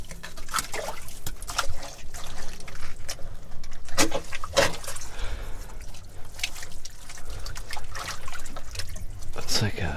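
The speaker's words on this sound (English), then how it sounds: "And the water's still running in" Water keeps running into an underground train station vault, a steady trickling and splashing flow mixed with knocks and clinks of objects being moved nearby.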